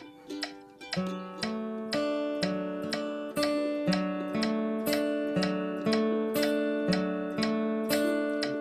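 Steady, even picked bluegrass guitar notes, one on each beat at a moderate tempo with a metronome at 120, ringing into each other, close and clear with no speech.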